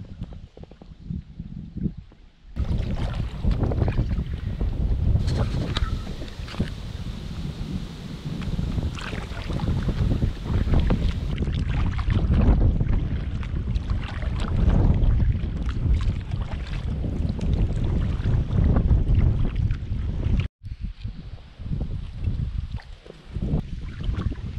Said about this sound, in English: Gonna try kayaking.